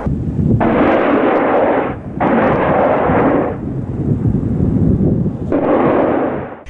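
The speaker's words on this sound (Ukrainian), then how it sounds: "я навожу гармату і здійснюю постріл" Three heavy booming blasts, each a sustained broadband roar lasting over a second, separated by short pauses; loud and close.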